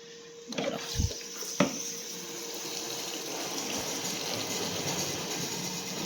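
Tap water running into containers being filled, a steady close rush of flowing water after a few knocks and clunks as the vessels are set in place, with no talking.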